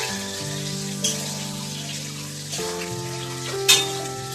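Food fries gently in a pan while it is stirred toward golden brown: a steady soft sizzle with two clear utensil knocks, one near the start and a louder one near the end.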